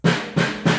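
A snare drum improvised from kitchen items, with metal pieces underneath that buzz, is struck three times in quick succession, each hit sharp and close with a short rattling decay, no talking.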